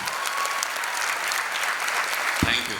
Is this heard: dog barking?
no